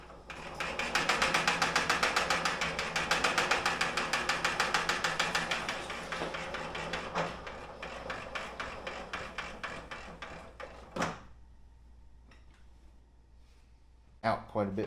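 Vevor retractable extension cord reel winding its cord back in, a rapid ratcheting clatter that runs for about ten seconds and slows, ending in a few sharp clunks and knocks.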